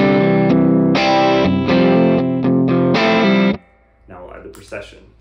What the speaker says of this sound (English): a tele into a brighter overdrive